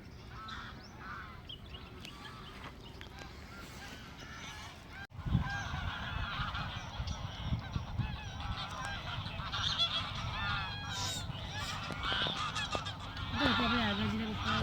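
Ducks honk and call near a roadside on the way back from Nal Sarovar bird sanctuary, a dense chorus of quacking and honking over outdoor noise, with a brief thump midway.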